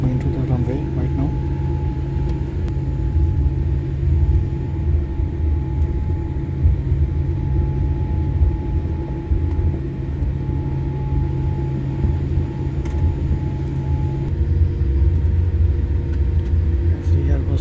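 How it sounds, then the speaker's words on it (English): Air India Boeing 787 Dreamliner taxiing toward the runway, heard from inside the cabin as a steady low engine rumble and hum throughout, with no break. "Aircraft is still in a taxiway and I is going to the runway right now."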